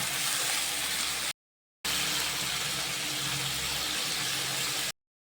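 Water poured into a pan of cooked-down masala with blended tomato and a little sugar, for a fish roe fritter curry: a steady, loud rushing hiss, broken by one brief silent gap.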